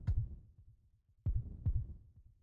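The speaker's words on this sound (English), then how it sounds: "You certainly could feel a beat." A low heartbeat effect from the Root Double video game thumps in deep, muffled double beats, three pulses spaced evenly and heard alone.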